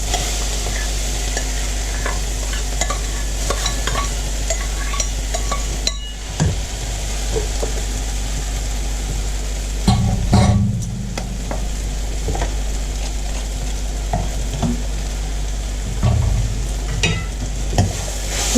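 Potatoes frying in a pan over lowered heat for a stuffed paneer and potato naan filling, steady sizzle with a utensil scraping and clinking as they are stirred, close and loud.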